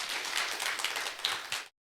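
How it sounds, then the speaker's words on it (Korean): Audience at the NH-Amundi global investment conference applauding to welcome a speaker, a dense, even burst of clapping that cuts off abruptly after under two seconds. "박수로 맞이해 주시기 바랍니다."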